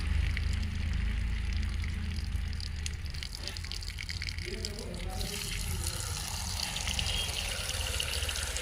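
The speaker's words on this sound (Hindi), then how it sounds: "पानी यहाँ पे निकल रहा है दोनों पाइप से मेरा" Water gushes steadily out of two bathroom PVC drain pipes during plumbing installation, a continuous broadband rush throughout, growing fuller partway through, with someone talking over it.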